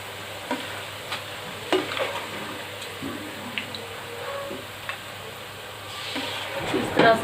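Oil crackles and sizzles softly as bitter gourd fries in a pan, with occasional stirring clatters and scrapes, steady and close.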